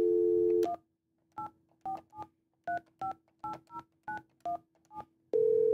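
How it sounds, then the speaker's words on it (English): A steady dial tone from an AllWorx Verge office phone on speaker cuts off, followed by eleven short keypad beeps in an uneven rhythm, then another tone starts; close and clear with no talking. "Press on the speaker, you get a dial tone. Our dialing plan calls for dialing a 9."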